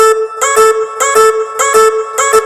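Short chopped melodic synth phrase cut into repeating segments from a music project, four bright, evenly spaced stabs over a steady sustained tone, close and clear with no voices.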